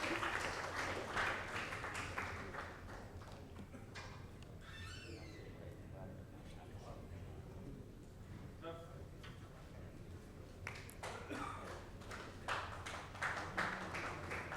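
A crowd applauds a guest called up on stage at the NTA Awards 2024 ceremony, with dense, steady clapping running throughout and voices mixed into it.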